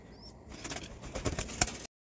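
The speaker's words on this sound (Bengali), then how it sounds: "তো চলো পায়রাগুলোকে বাইরে খেতে দিই।" Pigeons being fed outdoors, with soft wing flaps and a faint bird call over a rustling background; the movement builds and rises in bursts, then stops abruptly into silence near the end.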